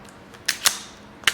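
A pistol dry-fires during laser trainer practice, giving a few sharp, close, metallic clicks spaced unevenly apart, including the trigger snap and the slide being cycled to reset it, against a quiet background.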